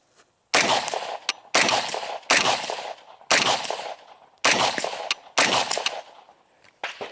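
Daewoo DR200 rifle firing six sharp shots at a range target about 100 away, with the stock collapsed; each loud crack is followed by a decaying echo, spaced roughly a second apart with brief pauses between.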